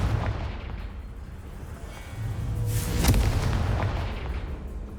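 A Confringo blasting spell goes off in Hogwarts Legacy, one sharp booming burst about midway over a low rumbling game soundscape, with a softer crackling tail after it.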